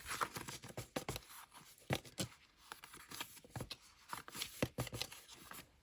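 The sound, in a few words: cutting paper for faux envelopes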